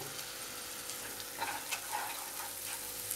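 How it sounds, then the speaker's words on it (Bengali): Ground cumin and coriander powder fry in a pan for a Bengali matar paneer curry, giving a steady, fairly soft sizzle that hisses evenly throughout, with a couple of slightly louder crackles. "জিরে গুঁড়োটা দিচ্ছি, ধনে গুঁড়োটা দিচ্ছি, 1 মিনিট এটাও ভাজবো"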